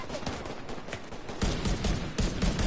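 Video game firefight gunfire, a quick series of sharp shots that grows heavier into dense, loud bursts in the second half, with no talking.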